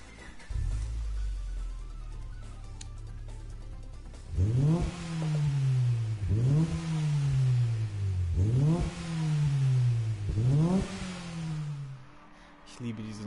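A Honda Civic engine in the racing game Gran Turismo Sport revs hard in four repeated surges, each climbing in pitch before dropping back, after a low idling rumble, loud and close.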